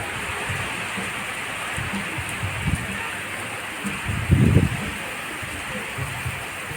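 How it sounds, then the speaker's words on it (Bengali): Heavy rain pours steadily near a beach in Purushottampur, a dense continuous hiss with low buffeting gusts of stormy wind swelling around the middle. "বেশ জোরে বৃষ্টি পড়ছে এখন, আর তার সাথে চলছে ঝোড়ো হাওয়া।"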